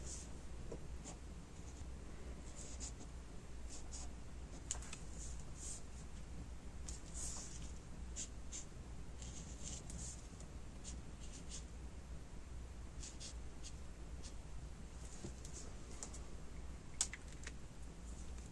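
Quiet, irregular clicks of a computer keyboard being typed on, a short run of light keystrokes over a faint steady background hum.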